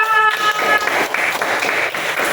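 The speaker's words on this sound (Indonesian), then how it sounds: "Tepuk tangan untuk kelas 4." A fourth-grade class applauds in an Islamic religious education lesson, a brief burst of dense, steady clapping from many hands at once, with a short tonal sound at the very start.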